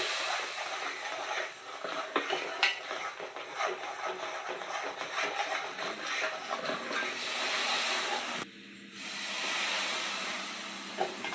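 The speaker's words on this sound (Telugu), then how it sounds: "అలా ఆయిల్ కొంచెం కొంచెం వేసుకొని మీరు అది తిప్పుకోవాలి ఫ్రెండ్స్" Oil poured bit by bit into a stirred Mysore pak mixture sizzles as a steady broadband hiss, with scraping and shuffling of the spoon throughout and a brief dip near the end.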